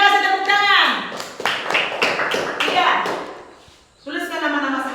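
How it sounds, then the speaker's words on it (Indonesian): A group of children claps their hands in a burst of close, loud claps lasting a couple of seconds, with talking before and after. "Terima kasih, tepuk tangan."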